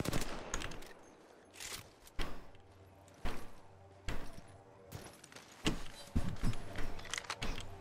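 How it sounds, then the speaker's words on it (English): Gunfire in the video game Apex Legends, loud bursts of rapid shots in clusters throughout, with game sound effects in between and no clear speech. "Taking fire, Ross."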